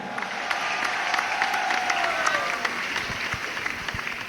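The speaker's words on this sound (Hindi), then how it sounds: "एक बार जोरदार पूरा सदन दोनों हाथ से तालियां बजाकर रुद्र भाई को आदेशित करे" A hall audience at a poetry recital bursts into loud, sustained two-handed applause, a thick crowd clatter with scattered sharper claps standing out and a faint tonal sweep passing through early on.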